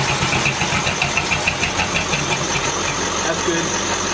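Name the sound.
Ford flathead engine running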